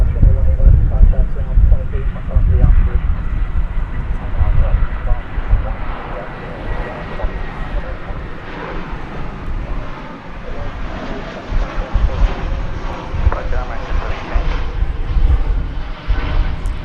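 An arriving American Airlines jet airliner passes near International Terminal D at DFW Airport. Its deep engine rumble and roar stay loud and steady throughout, swelling slightly toward the end.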